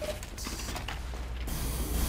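In Team Fortress 2, a spray decal goes on with a short mechanical rattle and a hiss that cuts off abruptly, faint over low game background noise.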